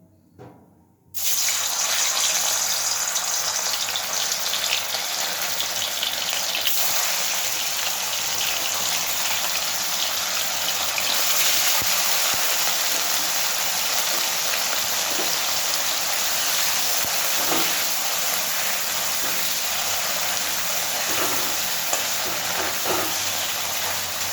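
Paneer frying in well-heated oil gives a loud, steady sizzle that starts abruptly and holds at an even roar, close to the pan.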